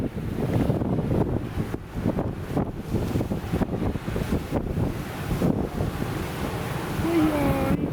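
Strong wind buffets the microphone beside waves washing in on a shore, a loud, gusty roar rising and falling in uneven bursts for several seconds, with a faint voice near the end.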